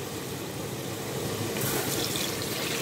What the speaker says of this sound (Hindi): अब आप इसमें थोड़ा सा अपना पानी डाल देंगे